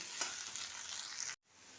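Fried garlic being stirred into pointed gourd stuffing in a pan, a soft continuous sizzle with scraping stir strokes, close and steady before cutting out abruptly.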